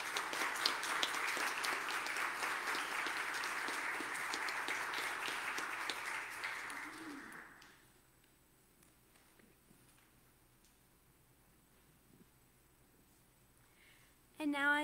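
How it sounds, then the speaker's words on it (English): A church congregation applauds at a service, dense clapping for about seven seconds before it stops abruptly, followed by a quiet room with faint shuffling and a brief sound at the very end. "Let's give them another round of applause."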